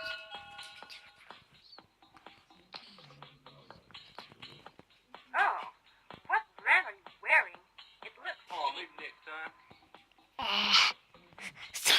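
A video-game dog barks and whimpers in short yapping bursts over game sounds and beeps, fairly loud and close, with no talk over it.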